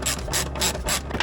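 A ratchet wrench clicks in four quick, loud bursts, loosening a 10 mm bolt on the airbox of a second-generation Toyota Sequoia, the pawl chattering close up with a short final stroke.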